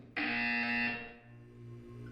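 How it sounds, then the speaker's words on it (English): A single loud, harsh electronic buzzer in the video game Portal 2 blares for under a second, then cuts off, leaving a low background hum. "When you hear the buzzer, look up at the ceiling."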